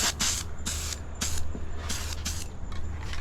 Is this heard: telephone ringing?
no